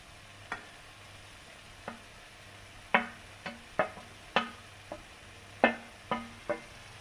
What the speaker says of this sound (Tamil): இப்போ இதை நம்ம நல்லா மிக்ஸ் பண்ணி எடுத்துக்குவோம்